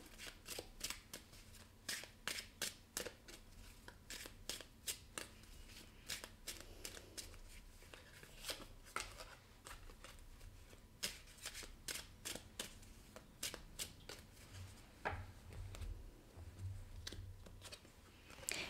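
Tarot cards shuffled by hand in a quiet room, a steady run of crisp riffling and slapping bursts that repeat in quick, irregular groups, close and clear, with no talking.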